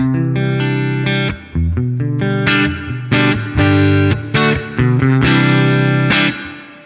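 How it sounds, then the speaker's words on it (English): Clean electric guitar notes and chords through a Lava Studio amp ring out, bathed in reverb, playing a steady melodic phrase with sustained tones and no voices. "we've got a nice clean sound with some reverb"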